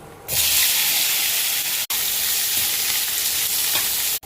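Taro pieces and slit green chillies hit hot oil with dried red chilli, radhuni and cumin, a sudden loud hiss that settles into steady close sizzling, briefly cut twice.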